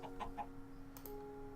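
An iron chicken from Sky Factory 3 in Minecraft gives three quick, quiet clucks in a row, then a short rustle, all alone in a brief moment of game audio.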